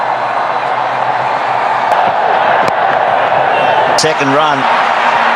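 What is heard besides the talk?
cricket stadium crowd cheering and clapping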